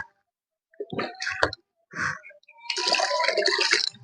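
Water is poured into a cooking pot in a rural Bangladeshi village kitchen. A few short splashes and clinks come first, then a steady, close pour of running water fills the last second and a half.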